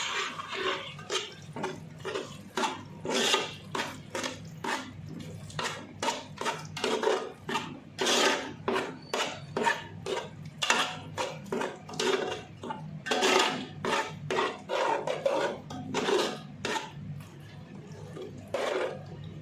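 Chicken mixed by hand with 200 ml of yogurt for biryani in a pot, producing a close, rhythmic run of wet squelches and clinks that repeat steadily throughout.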